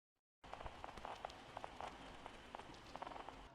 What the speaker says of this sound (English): some vinyl crackling sound